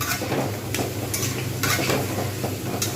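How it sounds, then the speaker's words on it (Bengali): Red lentils are stirred and dry-fried in a pan over a high flame, giving a steady close sizzle with repeated scraping of the spoon against the pan throughout. "এই যে ডালটা দিয়ে দিলাম আমি একটু হাই ফ্লেমেতে নাড়বো জাস্ট নেড়ে নেব"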